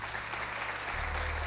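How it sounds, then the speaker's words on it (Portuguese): A church congregation applauding together after a sermon prayer, a steady wash of clapping close and continuous, with a low hum underneath throughout. "Pode sentar aplaudindo ao Senhor, se você crê aí."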